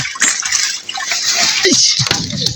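Fishing net swished and lifted in river water on the Bangsai River during Kalbaush fishing, steady splashing and dripping sounds up close, with brief murky thuds of the net breaking the surface.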